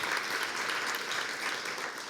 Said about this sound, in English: So let's give her a big hand of applause.